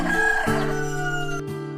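A chicken gives a short cluck, then a rooster crows a sustained harmonic call in one close, loud burst.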